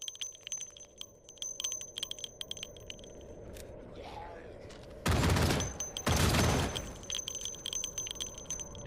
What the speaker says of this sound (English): Dude, the AK has a nice sound.